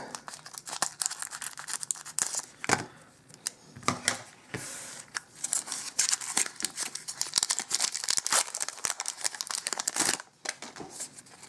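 Magic: The Gathering booster packs from Mirrodin Besieged are torn open by hand. Repeated sharp foil crinkles and ripping bursts fill the clip, close and fairly loud, with brief pauses between tears and no talking.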